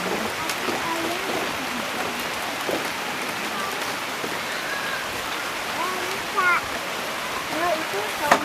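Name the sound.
heavy rain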